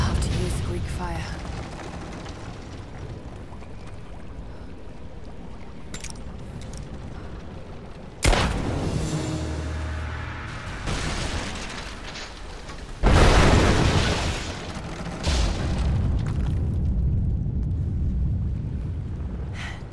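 In Rise of the Tomb Raider, thrown Greek fire vessels blow up against an unstable statue's supports, two loud booming blasts with rumbling debris over steady game ambience.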